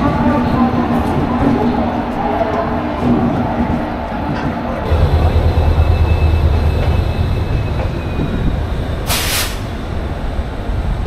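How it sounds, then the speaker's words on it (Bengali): Kantabanji Ispat Express pulling out of Howrah Junction, a continuous loud rumble and rattle of rolling coaches with station crowd noise, a shift in tone midway and a brief hiss of air brakes near the end. "ট্রেন এখন আমাদের হাওড়া জংশন ছেড়ে বেরোচ্ছে"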